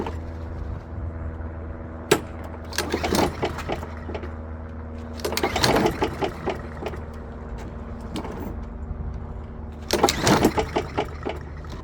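Honda lawn mower engine being started: repeated pull-cord attempts come in three clusters of rough rattling bursts over a steady low background hum, with a sharp knock early on.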